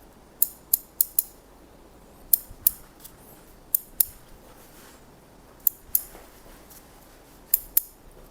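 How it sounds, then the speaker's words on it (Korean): Scissors snip through a middle-aged man's thin, sparse hair during a haircut, in short crisp clicks, mostly in pairs and small bursts with pauses between, close and clear with no talking. "가위를 이용해서 연결하겠습니다."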